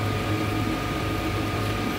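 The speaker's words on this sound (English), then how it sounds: "Printer noise that you can hear at the moment is the noise of the other printers." Steady mechanical whirring and humming of several 3D printers running continuously, a constant droning tone with no pauses.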